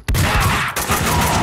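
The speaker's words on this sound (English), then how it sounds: "Someone must have heard the gunfire." Dense, loud bursts of gunfire from Max Payne 2 fill the moment almost continuously, with a brief break partway through before rapid shots resume.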